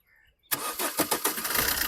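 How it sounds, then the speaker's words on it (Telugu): After a short quiet moment, a 2016/17 Maruti Suzuki Baleno Alpha's engine cranks and catches in one try, then settles into a steady running rumble nearby. "సింగిల్ సెల్ఫ్ బండి స్టార్ట్ అవుతుంది సార్, ఎటువంటి స్టార్టింగ్ ట్రబుల్ అయితే లేదు."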